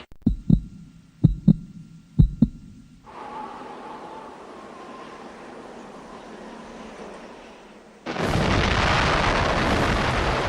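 Atom bomb test detonation, opening with several sharp low booms, then a sustained rumbling roar that swells into a loud, broad blast of noise near the end, with no voices.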